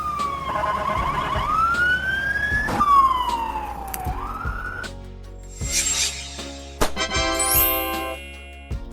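Ambulance siren from Denmark, where Mercedes-Benz Sprinter, Volkswagen Crafter and Peugeot Boxer ambulances are used, wailing in rising and falling sweeps, then shifting to a busier, shifting multi-tone pattern, loud and near.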